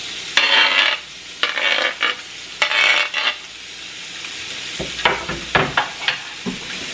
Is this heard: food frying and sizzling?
yes